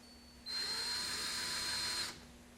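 A power drill bores small marker holes into the side of a kayak to mount a rudder cleat, one steady high-pitched whine that runs for about a second and a half and then stops, close and alone.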